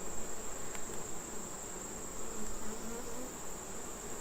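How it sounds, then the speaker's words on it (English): A dense, steady buzz of many honeybees fills the air close up, continuous and unbroken with a faint high whine. "Bees know what they need."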